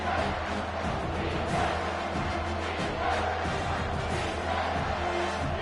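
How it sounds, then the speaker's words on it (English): A stadium crowd at a football game roars in a dense, continuous wall of noise as the defense holds in the red zone, steady and loud throughout. "the crowd coming to life here, trying to help this defense down in the red zone"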